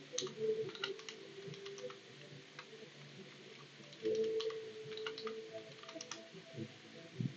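A password typed on a computer keyboard: a faint, irregular run of light key clicks over a low steady hum.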